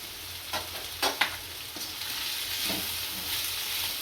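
Carrot and cabbage are stir-fried with onion and capsicum for Manchurian, a steady close sizzle broken by a few sharp stirring knocks and scrapes against the pan; no talking.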